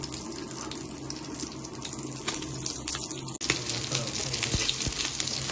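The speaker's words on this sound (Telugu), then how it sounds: "ఫిష్లు చూసారా ఫ్రై అవుతున్నాయి పచ్చిమిర్చి వేసుకుంటున్నాం" Fish frying in a pan with green chillies added, a dense, loud, continuous sizzle and hiss with a sudden surge as more goes into the hot oil.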